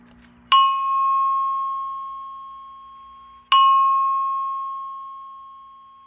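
A Simplex 4100ES fire alarm panel sounds its all-call alert tone: two loud, clear chime strikes about three seconds apart, each ringing out and slowly decaying, with no talk.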